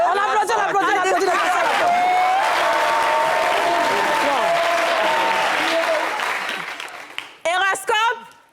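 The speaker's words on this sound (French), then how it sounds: "on applaudit, on applaudit, on applaudit" Studio audience applause on a French-language variety talk show, a sustained wash of clapping and crowd chatter that fades out near the end, with a host's voice talking over it.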